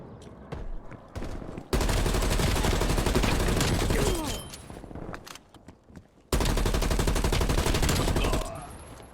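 Video game gunfire played on a modded Xbox Series X controller: bursts of rapid automatic fire, two long sustained volleys separated by quieter stretches with a few scattered shots, loud and close.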